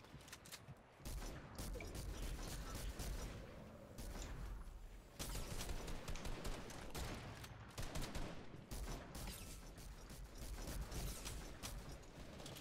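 Rapid game gunfire in long bursts, with brief pauses between volleys and clicking reload mechanics; loud and close, no talking.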